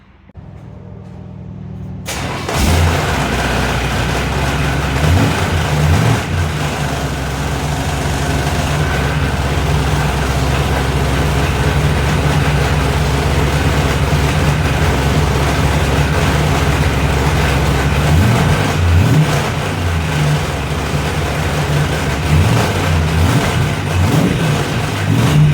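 A 1935 Chevy Master Deluxe engine runs steadily and loudly throughout after starting up, with a broad rumbling drone and a vibrating radiator fan buzzing within it.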